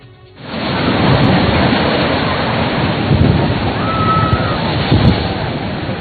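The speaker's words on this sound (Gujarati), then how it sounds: "અરબી સમુદ્રમાં ભારે કરંટથી 15 થી 20 ફૂટ ઊંચા મોજા ઉછળ્યા" Stormy Arabian Sea at Dwarka with 15 to 20 foot waves, a loud continuous roar of surf and wind-driven crashing water that swells slightly in places, heard close with no voices.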